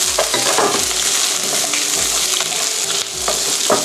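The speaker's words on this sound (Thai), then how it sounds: "ผมก็ใส่ หัวหอมลงไปครับ ผัดอีกนิดเดียวเท่านั้นนะฮะ" Onion and garlic sizzle loudly in a hot pan while a spatula scrapes and tosses them in a steady stir-fry rhythm, close and continuous, no talk.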